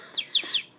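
A rescued baby bird gives three short, high chirps in a quick, evenly spaced run, close and fairly clear over a quiet room.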